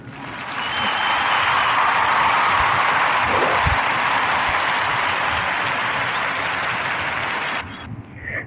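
A crowd gives steady, loud applause for Ye on a podcast stage, sustained for about seven seconds before it cuts off abruptly.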